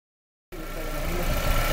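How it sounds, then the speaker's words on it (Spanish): A Chevrolet Corsa 1.8 engine idles steadily close by after a half-second of silence, a low continuous rumble with faint mechanical knocking and no talk. "como podemos observar, ya está el vehículo andando"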